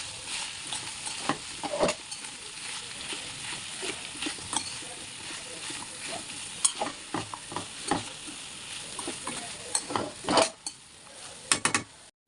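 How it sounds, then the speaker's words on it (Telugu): Chicken pieces for a biryani fry in a pan with a steady sizzle. A spatula stirs throughout with scraping clicks and clanks, growing busier near the end. "మళ్ళీ ఎక్కువ మంచిగా ఫ్రై చేసుకోవాలండి"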